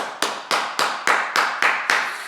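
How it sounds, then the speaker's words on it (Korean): A church congregation claps for people who have just finished a course. Eight sharp, evenly spaced bursts land in a slow, steady rhythm, each ringing briefly in the hall, with no talk over them. "격려와 응원의 박수를 제가 드립니다"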